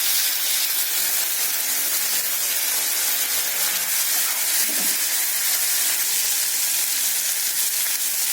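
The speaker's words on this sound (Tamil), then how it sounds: "இந்த டயத்தில் வெங்காயம், தக்காளி போட்டுருவோம்." Chopped onion and tomato sizzle loudly in a hot frying pan of oil, a dense, continuous crackle and hiss with faint stirring underneath.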